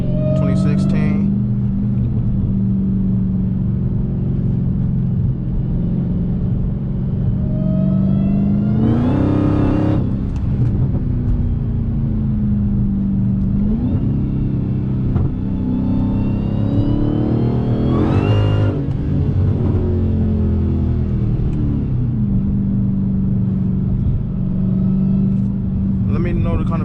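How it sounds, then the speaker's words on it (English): A 2016 Dodge Hellcat tuned to 850 horsepower drives with its engine in a steady loud rumble and drone, interrupted by a few sharp gear-change bursts and rising pulls; voices talk over it throughout. "850 horsepower Hellcat"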